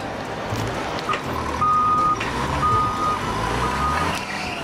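A truck at a bottle and can recycling site gives a steady series of reversing beeps over loud engine rumble and background noise, continuing throughout.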